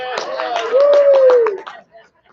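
A small audience at a recital claps after a song, a short run of evenly spaced claps under a sustained voice, then fading to near silence.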